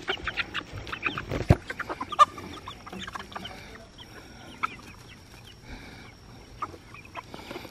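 Several chickens cluck and squawk close by in quick, uneven bursts, with softer scattered clucks and faint background noise.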